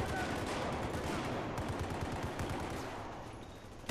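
MG4 light machine gun fire in the Battlefield 4 Rush mode, a dense unbroken stream of rapid shots and battle noise lasting several seconds, with voices underneath.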